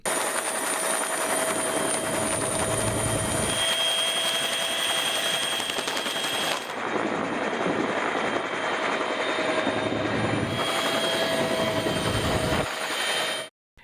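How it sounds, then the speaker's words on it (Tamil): A rescue helicopter flies over flooded areas during a cyclone in Sri Lanka, its rotor chop and engine whine loud and steady throughout, shifting slightly in tone as it moves, then cutting off abruptly at the end. "ஹெலிகாப்டர்கள் மூலம் மீட்பு பணி நடைபெற்று வருகிறது"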